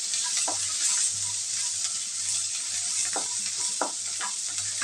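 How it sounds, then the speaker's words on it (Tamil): Sliced onions and green chillies fry in a pan with a steady, loud sizzle, and a spoon stirs them now and then with soft scraping strokes. "இந்த வெங்காயம் கொஞ்சம் வதங்கி வரட்டும்."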